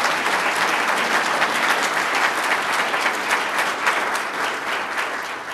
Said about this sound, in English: can we have a round of applause for all these fantastic nominees?